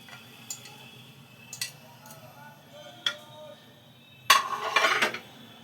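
A spoon mixes chicken raita with cucumber, tomato, chopped green chilli and onion in a bowl, making sparse, quiet clinks followed by a louder, brief clattering stir.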